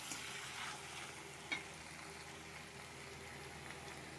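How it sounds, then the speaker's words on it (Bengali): Mutton sautéed in oil until the fat separates, giving a faint, steady sizzle throughout with a soft knock partway and a sharper clatter at the very end. "মাটন কষানো হয়ে এসছে, প্রায় তেল ছেড়ে দিয়েছে"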